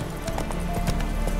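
Geralt's horse Roach in The Witcher 3 gallops with steady rhythmic hoofbeats close by, a brief whinny mixed in over the outdoor game ambience.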